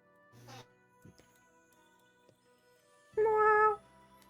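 A cat meows twice, a short mew early on and then a louder, drawn-out meow close by, with faint background sounds between.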